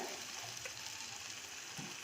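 Gentle, steady sizzling of onions and curry leaves sautéing in a pan, with a soft stirring scrape near the end; quiet and continuous, no voices.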